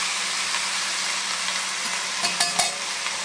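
Chopped tomatoes and vegetables are stirred around a hot pan for a pot roast, giving a continuous close sizzle with a few spatula scrapes and clacks near the end, and no voices.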